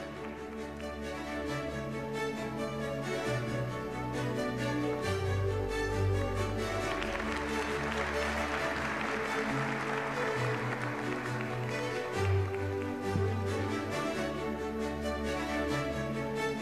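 Sustained audience applause fills an awards ceremony at a higher-education opening event, a dense, even wash of clapping that swells in the middle and carries on for many seconds with no talk over it, faint and distant.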